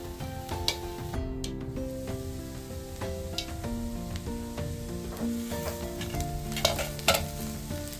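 Cluster bean kheema with grated coconut and spices is stirred and sautéed in a pan, giving a steady soft sizzle with scraping strokes. Background music plays throughout and no one speaks.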